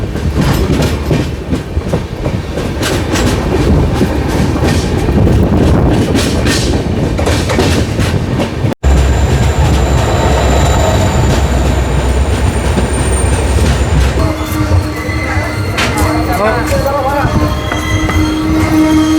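The Jan Shatabdi Express 12080, Hubballi to Bengaluru, runs near Chikkajajur junction with a loud, steady rolling rumble and rail clatter. A momentary dropout breaks the sound, and faint voices come through at times.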